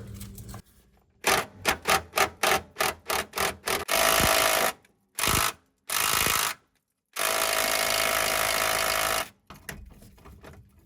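A bolt being removed from the rear gas tank strap of a car: a quick run of sharp ratcheting clicks, then several longer, loud sustained mechanical bursts separated by short pauses.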